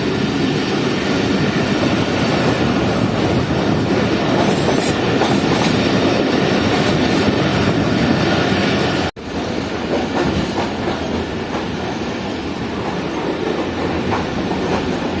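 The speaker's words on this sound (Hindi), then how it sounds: "8225 लोकोमोटिव के साथ KCR अपना पहला departure as a Shah Latif express करते हुए एयरपोर्ट रेलवे स्टेशन से" KCR Shah Latif Express pulled by locomotive 8225, running out from Airport railway station in Karachi: a steady, loud rolling rumble with rhythmic wheel clatter on the rails, a brief dip partway through, then continuing.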